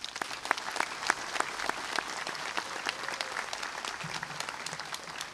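Steady audience applause at a university mid-year commencement ceremony, many hands clapping in a large hall, moderately distant and even, with a few sharper individual claps standing out.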